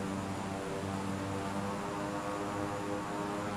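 Airplane approaching the runway in a Flight Sim Japan game, a steady, continuous engine drone with a broad airy rush and no talk.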